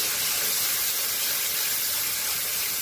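Ingredients poured into a hot, oiled pan with chili and black cumin seeds hiss and sizzle, giving a steady, close, bright spitting noise that holds evenly for a few seconds without talk.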